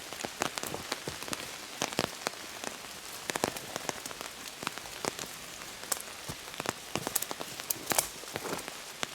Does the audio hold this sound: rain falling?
yes